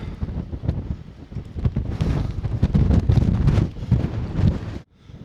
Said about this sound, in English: The weather seems to be improving, but it's hellish windy still.